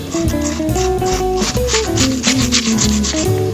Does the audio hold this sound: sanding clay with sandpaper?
yes